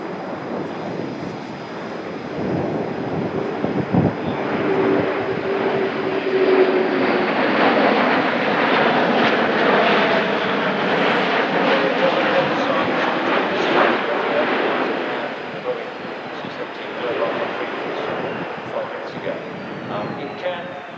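Airbus A400M Atlas military transport aircraft making a max-power takeoff at an air show, a loud, rising turboprop roar that builds, holds and fades as it passes, with a commentator talking over it.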